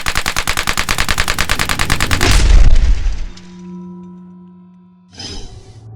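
A rapid, evenly spaced string of suppressed shots from a Lipsey's retro Glock P80 pistol, loud and close, followed by ringing tones and one last muffled burst.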